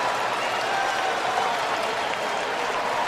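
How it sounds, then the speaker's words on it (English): Football stadium crowd reacting to a replay at a Minnesota versus Auburn game, a dense roar of cheering and applause from a huge audience, distant and sustained at even loudness throughout. "The crowd reacted to the replay."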